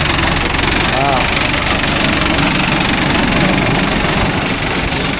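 A Mahindra Arjun Novo 605 DI tractor with a cutter attachment harvests a crop field in Solathadu, its engine droning loud and close in a constant rattling roar, with a brief voice underneath.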